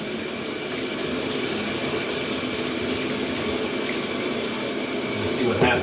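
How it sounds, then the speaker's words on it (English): Hot water pouring into the tank of a Hoover SpinScrub50 carpet cleaner, a continuous close gushing stream with a faint tap-like hum beneath, ending in a brief clunk. "Now I'm going to put some hot water back in."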